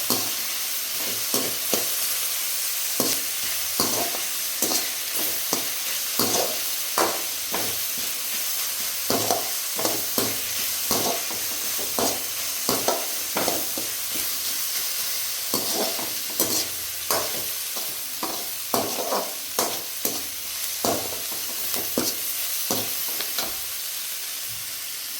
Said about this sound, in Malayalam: ഇനിയിപ്പോൾ അടുത്ത് നമ്മൾ സവോള വഴറ്റുകയാണ്.